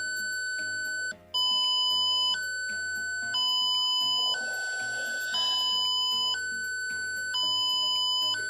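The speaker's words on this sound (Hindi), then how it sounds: "तो देखो, हमारा जो फायर सिस्टम है, अलार्म है, वो एकदम सही से वर्क कर रहा है।" An Arduino fire alarm built with an IR sensor sounds a loud, steady electronic beeping tone that alternates between two pitches in a repeating pattern, with no voices.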